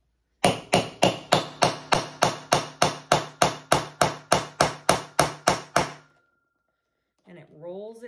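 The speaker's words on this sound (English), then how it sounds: "I take this tool, I set it in, and then I'm going to hit it pretty dang hard till it's nice and snug." A hammer strikes a metal setting tool seated on a bag fitting, about eighteen hard, evenly spaced blows close up in a steady rhythm, then silence and brief voices.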